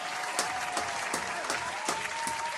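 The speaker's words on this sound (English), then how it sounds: "I think that deserves a round of applause." Sparse audience applause with a few louder individual claps standing out at a regular pace over a soft bed of clapping, heard alone without talk.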